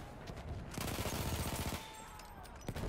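Rapid gunfire rattles through a Battlefield 1 match, a dense fusillade of close shots layered with automatic bursts, loud and continuous, ending with a sharp crack.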